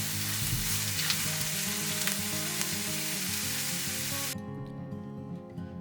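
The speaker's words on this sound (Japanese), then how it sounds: "ハンバーグを焼いた時に出た油があるので、その油で野菜を炒めます。" Onions and shimeji mushrooms stir-fry in fat left from cooking hamburg steaks in a Fissler stainless steel frying pan, giving a loud, steady sizzle over music that suddenly thins and drops away near the end.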